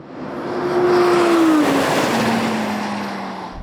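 Audi RS6 GT and R8 GT race cars at full throttle, one engine note climbing then sliding down across a shift, a loud continuous near roar with tire noise, no talking.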